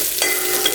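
Steady frying sizzle with stirring in a pan, sautéing ingredients for green gram curry, a continuous hiss with a brief scrape partway through, close and moderately loud.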